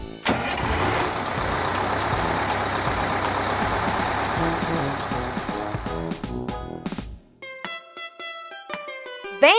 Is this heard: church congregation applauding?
no